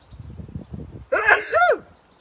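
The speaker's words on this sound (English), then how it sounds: "I'm going to sneeze." A single loud, close sneeze bursts out after some quiet muffled sounds, sharp and explosive, then fades quickly.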